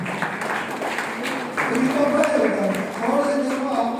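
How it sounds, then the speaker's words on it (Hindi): Applause from an audience at a Republic Day program, a scattered patter of clapping hands mixed with murmuring voices and talk, moderately loud and swelling briefly midway. "तो इनके लिए एक ताली"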